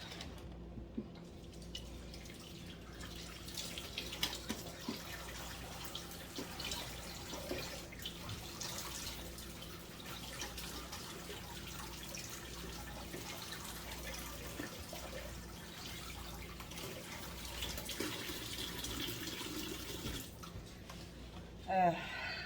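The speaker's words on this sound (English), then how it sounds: "So I'm going to give these a good rinse" Strawberries are rinsed under a running kitchen tap, giving a steady, faint hiss of flowing water that lasts throughout with slight splashing variations.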